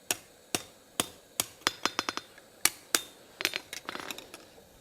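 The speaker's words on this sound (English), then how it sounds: "I'm also going to now hammer it on the edges to get it nice, help curve that just a bit more." A hammer strikes the edges of a forged steel ladle to curve it, sharp ringing metallic blows spaced irregularly, then quickening into a flurry of lighter taps at the end, close and loud.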